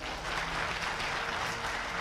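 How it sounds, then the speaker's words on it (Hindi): Audience applause at a Modicare business opportunity meeting, a brief steady wash of clapping that stays even and dense throughout, with no voices over it. "अच्छी बात है तो ताली बजा सकते हैं"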